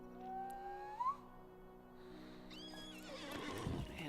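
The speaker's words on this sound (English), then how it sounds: "let's summon my horse again" A summoned horse in a video game gives a clear whinny, followed by a second neigh and the clip-clop of hooves drawing near.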